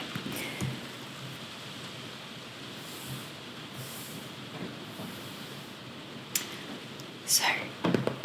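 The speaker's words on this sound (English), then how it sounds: "we'll listen to the rain" Steady rain falls outside in a soft, even hiss that continues throughout, with close whispering over it and a few louder rustles near the end.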